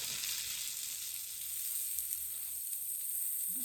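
Turkey fried steak sizzles steadily in a pan over moderate heat, a continuous close crackle and hiss filling the whole stretch without any voices.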